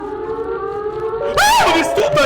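A wailing siren in the video game Siren Head suddenly swells loud over a steady droning tone, its pitch rising and falling in a long, eerie sweep.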